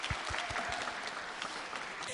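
A studio audience at a Korean singing contest applauds the oldest contestant with a short burst of moderately distant clapping that fades out within about two seconds.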